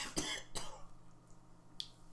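A person coughs twice in quick succession, fairly faint against quiet room tone, followed by a brief small click.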